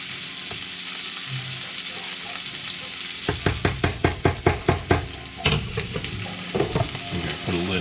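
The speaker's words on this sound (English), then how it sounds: "Just a little bit of olive oil in there to help render out the fat in the sausage." Sausage sizzling in olive oil with grits stirred alongside, a steady frying hiss joined midway by a run of rhythmic knocking scrapes of a spoon against the pot.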